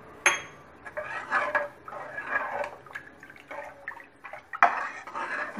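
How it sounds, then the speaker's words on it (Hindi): Extra water is added to a vegetable soup in a pot, a close mix of pouring and splashing with scattered clinks and knocks of a utensil against the metal. "बचा हुआ वाटर था वो और एक्स्ट्रा वाटर ऐड कर देंगे"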